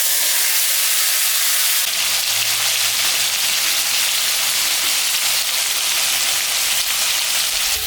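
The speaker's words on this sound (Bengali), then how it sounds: "চাল কুমড়োটা ভাজা ভাজা হয়ে গেছে" Ash gourd and a potato frying in oil in a pan with black cumin and chili, making a loud, steady sizzle that runs unbroken from start to finish.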